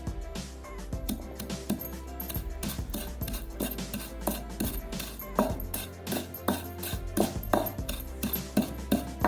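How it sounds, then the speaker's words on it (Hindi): Dry-roasted spices for a tilapia fish fry masala are coarsely pounded and ground in a mortar, making close, rhythmic knocking and gritty scraping strokes that repeat steadily throughout. "अब इसको डालेंगे एक कूंडी में और इसको हम दरदरा सा पीस लेंगे"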